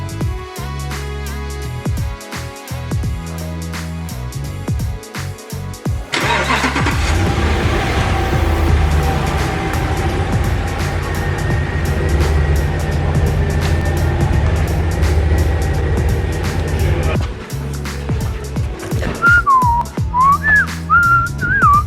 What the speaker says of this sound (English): Recovery truck has arrived.